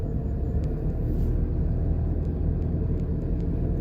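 Traffic at Manor Park Plaza in Jamaica gives a continuous low rumble of passing cars and engines, steady and unbroken throughout.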